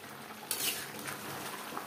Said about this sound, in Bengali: কাসুরি মেথি ও গরম মশলা পাউডার চিকেনের সাথে বেশ ভালো করে মিক্সড করে দেব